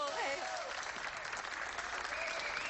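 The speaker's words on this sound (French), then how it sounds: "On applaudit bien fort nos amis du groupe qui ont eu la gentillesse de faire un concert pour nous." Applause from a live audience for a band after their concert, a steady dense clapping wash running throughout with voices and cheers mixed in.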